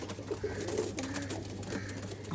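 A light-coloured pigeon coos in soft, repeated low calls, close by over a faint steady hum.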